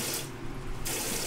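A kitchen faucet set to its spray mode hisses steadily with broadband rushing water, loud and close, briefly dropping in brightness mid-flow before returning full; no talking.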